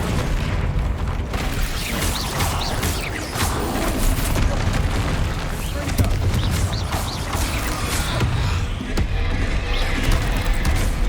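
Bombarda blasting spells from the Hogwarts Legacy video game go off in a dense, loud run of booming explosions, heavy and continuous across the whole stretch, with shouted spell calls mixed in.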